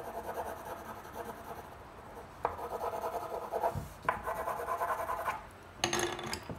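Steady, close scratchy rubbing of an orange colour stick drawing horizontal lines on paper, with repeated back-and-forth strokes and a few sharper taps where strokes begin.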